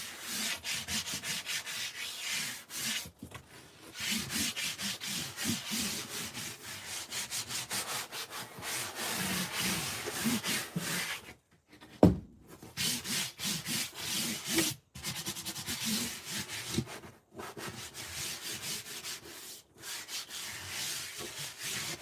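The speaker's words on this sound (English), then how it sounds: "I like to just take my hand and rub it over it to get the excess off" A hand rubbing back and forth over wood to wipe off excess during a van conversion, producing continuous close scratchy friction strokes broken by short pauses and a bump or two.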